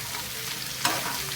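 Chopped ridge gourd frying in a pan for a milky curry, a dense, continuous sizzle heard up close with a brief stirring scrape near the end.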